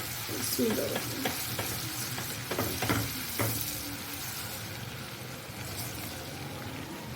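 About two tablespoons of crushed garlic with ginger garlic paste and whole spices frying in a pot for aloo anday biryani: a close steady sizzle with several scraping stirs early on, then settling to an even frying hiss.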